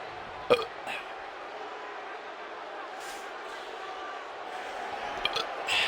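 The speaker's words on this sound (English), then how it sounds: "burping so much tonight" A commentator calling a wrestling tag team title match lets out a single short burp early on. Faint crowd noise runs underneath, with occasional speech.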